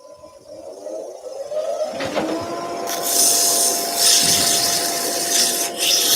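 Driftwood is sanded with 100 grit abrasive while dust extraction runs. A motor spins up and then a loud, steady abrasive rasp with a high hiss holds close, surging slightly as pressure shifts.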